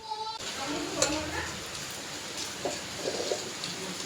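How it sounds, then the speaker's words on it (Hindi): Heavy rain pours outside in a dense, steady hiss that never lets up, with a few faint voices and small clicks in the background. "आपको बैकग्राउंड साउंड से पता चल रहा होगा कि बाहर कितनी बारिश हो रही है"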